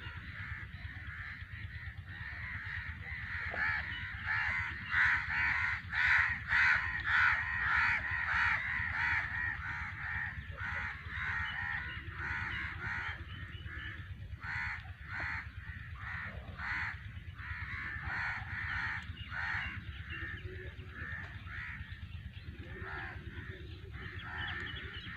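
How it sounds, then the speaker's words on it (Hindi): Crows cawing while flying over open green fields, a flock giving repeated harsh caws, loudest early on and then continuing in scattered bursts over a steady outdoor rumble, with no talking. "ये कौवे हैं, ये उड़ रहे हैं, मस्ती कर रहे हैं"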